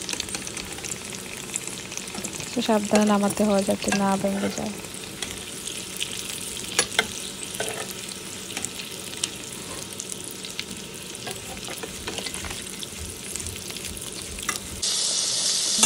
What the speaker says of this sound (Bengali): ডিমটা ফ্রাই করে নেব